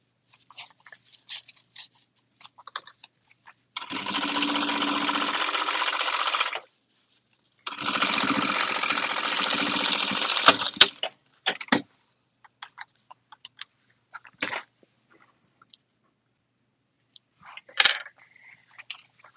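A sewing machine top stitching a beauty bag runs in two steady bursts of several seconds each, close and fairly loud, separated by brief pauses and followed by small handling clicks.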